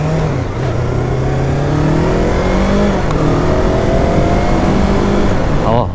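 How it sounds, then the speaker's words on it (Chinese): A heavy motorcycle cruises along an expressway, its mid-pitched engine droning steadily and rising in pitch as it accelerates, with strong wind rush throughout, close and loud. "第一次骑重机上快速高速"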